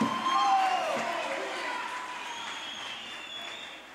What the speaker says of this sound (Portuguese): Você está aplaudindo agora